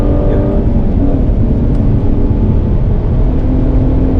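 A car, apparently a Caterham, lapping a race track at Bedford Aerodrome, heard as a loud, steady engine drone and road rumble from inside the cabin.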